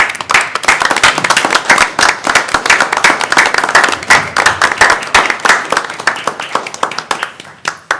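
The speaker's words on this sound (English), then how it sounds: "Round of applause." Hands clap steadily in a round of applause at a city council meeting, dense and continuous for the whole stretch, moderately loud and close, with no talking over it.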